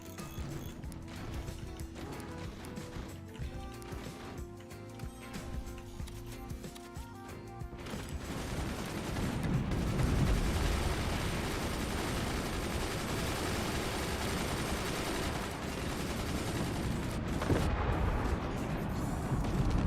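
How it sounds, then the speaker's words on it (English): Howitzer artillery in the Forts real-time strategy game, mechanical clanking and ratcheting giving way to a sustained rumbling barrage of distant blasts, steady and moderately loud. "They have howitzers now"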